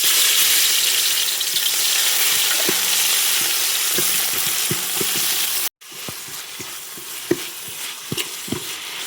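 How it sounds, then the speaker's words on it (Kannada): Onions frying in oil in a pan for a chicken gizzard fry make a steady, close sizzle throughout, with occasional stirring clicks and a brief gap before the frying resumes. "ಇವಾಗ ಈರುಳ್ಳಿ ಚೆನ್ನಾಗಿ ಫ್ರೈ ಆಗಿದೆ."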